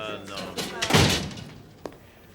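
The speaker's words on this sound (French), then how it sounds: "Ferme la porte." A door slams shut with a heavy thud amid loud background noise, followed by a sharp click, in a French-language action film scene.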